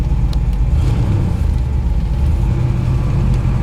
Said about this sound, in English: It's got a nice idle to it.